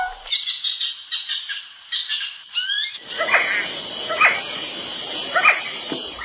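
A quetzal calls with a run of bright, high chirping notes, then a steady rush of background noise with repeated call notes and other birds calling through it.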